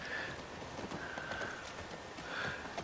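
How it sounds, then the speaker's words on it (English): Horse hooves clip-clop steadily in The Last of Us Part II, a soft, even trotting rhythm set against a faint ambient bed across the whole stretch. "Come here, horse."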